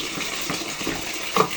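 Water runs steadily while a sprayer tank used for weed killer is rinsed out, a close, continuous splashing flow with a brief louder gush near the end.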